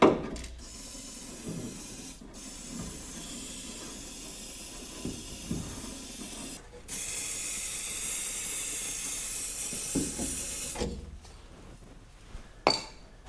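Hissing bursts of spray from an aerosol can used for rust protection on an older car, one long continuous blast in the middle and shorter spurts around it, with light clinks between.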